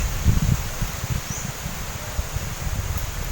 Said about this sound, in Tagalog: Ayan, medyo mahangin po.